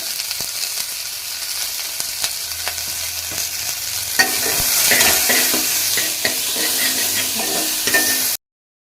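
Sliced onions with salt fry in a pan while being stirred, giving a continuous sizzle broken by scraping strokes. The frying swells louder midway, then cuts off abruptly, and no one speaks.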